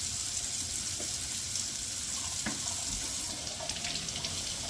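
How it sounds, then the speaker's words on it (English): A pot roast being rinsed under a running cold-water tap, with a steady splashing stream and occasional light clinks at a kitchen sink. "We are first going to rinse off our roast"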